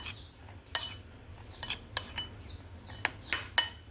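Metal spoon clinks and scrapes against a bowl as small onions and chili are mixed, a series of sharp, close, irregular taps with no talking.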